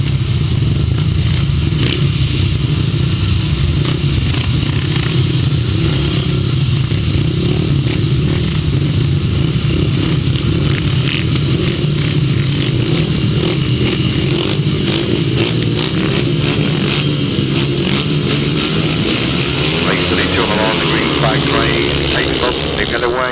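Grasstrack racing motorcycles roar together at the start of a race at the Bewdley Bonanza meeting, a loud continuous mass of engine noise under a commentator's voice over the PA.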